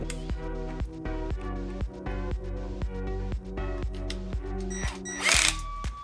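A power drill fitted with a 3.5mm bit bores into scrap wood, giving a steady, close motor whine with rapid pulsing throughout and a brief harsher burst just before it stops.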